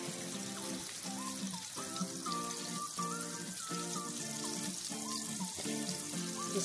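Garlic sizzles steadily in melted vegan butter in a pan, a continuous close frying hiss with faint popping, alone with no talk.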